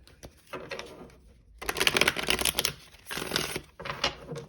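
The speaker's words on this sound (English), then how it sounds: "we will do one last shuffle" Cards riffle and flutter in quick bursts, a short shuffle followed by two louder, longer riffles close up.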